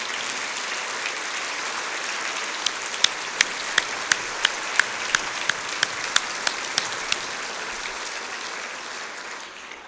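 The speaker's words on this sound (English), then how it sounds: "Please stand so we can give you a round of applause." An audience at a city's State of the City address applauds, a dense wash of clapping from many hands that holds steady throughout, with a few sharper individual claps standing out near the middle.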